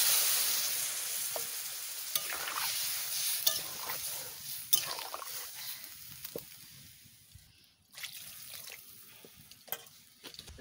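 Pui greens sizzle steadily in a pan after salt and water go in, a broad bright hiss with scattered stirring clicks and scrapes that thins briefly near the end before picking up again.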